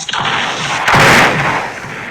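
A deep, booming explosion from a Roblox pirate game, likely a bazooka blast, swells and rumbles for about a second amid a dense, noisy background of game action.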